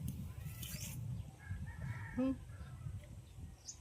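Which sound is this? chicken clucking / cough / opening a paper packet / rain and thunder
chicken clucking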